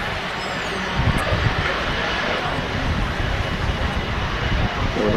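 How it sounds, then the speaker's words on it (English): A Jet2-operated Airbus A330 at windy Manchester Airport, its engines giving a broad, steady roar mixed with wind noise, while a voice talks over it. "Unusual Jet2 aircraft, an Airbus A330, not one of their own."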